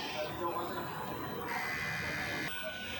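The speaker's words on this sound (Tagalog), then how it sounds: "Ganito naman po mag-head clean." A DTF printer running its print head cleaning cycle gives off a steady mechanical whir with shifting motor tones and a few abrupt changes. A voice speaks quietly over the machine.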